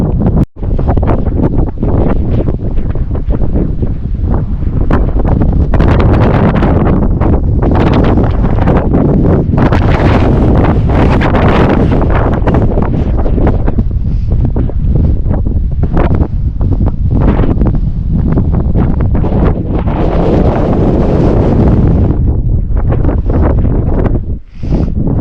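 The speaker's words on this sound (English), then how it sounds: "It's crazy windy up here." Strong wind buffets a mountain summit at Sam Knob, a loud, close, continuous roar of microphone-battering gusts that surges and dips for the whole stretch, with no voices heard.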